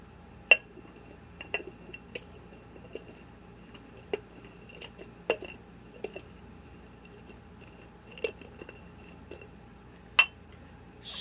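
A drinking glass is handled while a beer cocktail is mixed with sea salt and chili powder, giving a dozen or so sharp, light clinks and taps scattered irregularly over quiet room tone.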